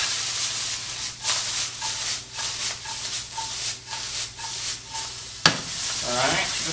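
Shallots and cilantro sauté in chicken drippings in a pan, giving a steady close sizzle broken by regular scraping stir strokes about every half second, with a sharp clank near the end.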